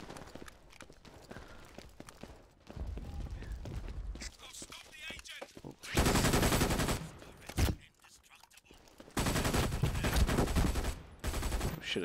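Automated turret fire in the video game Brink, loud sustained bursts of rapid gunfire that start and stop in long stretches between quieter moments, with footsteps and a voice talking in between.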